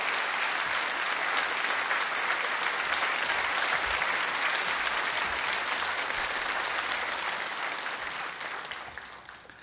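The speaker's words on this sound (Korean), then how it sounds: "우리 또 강사님께 큰 박수로 맞아주시면 감사하겠습니다." A church congregation applauds at an evening worship service in Korea to welcome a guest pastor, with dense, loud, sustained clapping that tapers off near the end.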